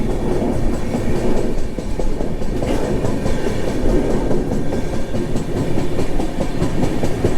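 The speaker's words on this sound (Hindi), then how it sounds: "यहाँ पे ट्रेन ये स्लो कर लेते हैं" Garib Rath express train running on rails, a steady loud rumble with rhythmic clickety-clack of wheels over rail joints throughout, heard close from inside the moving carriage.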